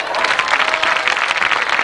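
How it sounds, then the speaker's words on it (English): Steady, dense applause from a crowd honouring marching band members, continuous and fairly loud with no talk over it. "Got a big round of applause for these fine young men and women."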